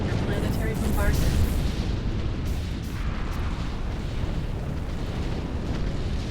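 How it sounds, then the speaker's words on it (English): Planetary bombardment explosions in the space strategy game Sins of a Solar Empire: Rebellion, a dense, continuous rumble of heavy blasts and booms that keeps rolling without a break. "Ground forces are under planetary bombardment"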